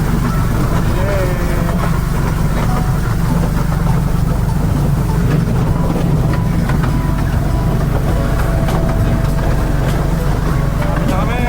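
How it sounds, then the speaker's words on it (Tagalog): Steady low mechanical rumble of a moving train in Taiwan with rattling and clatter, while people chat over the constant noise. "Abel, likod ng tren."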